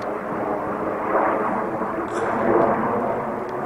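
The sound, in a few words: military airplanes flying over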